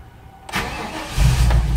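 A small bus engine starts with a quick crank and catches, then settles into a steady, loud, low idle up close.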